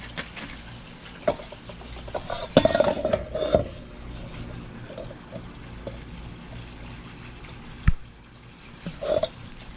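Mac and cheese balls are placed into a Chefman air fryer basket with a few light clinks and a short cluster of clattering knocks, then quiet handling noises.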